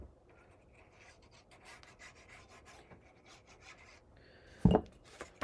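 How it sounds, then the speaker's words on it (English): Paper for a honeybee-themed mini album is burnished by hand, giving a soft, steady rubbing rasp up close, ending in a sharper scrape and a couple of small taps. "And burnish."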